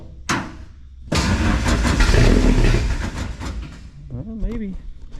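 An engine cranks and sputters in a struggling attempt to start, a loud continuous churning roar for a few seconds after a brief sharp burst, fading out as someone speaks near the end.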